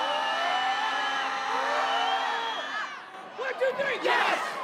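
The Screamin' Green student section at a basketball game, a dense roar of cheering voices with rising whoops and shrieks that swell into louder bursts toward the end.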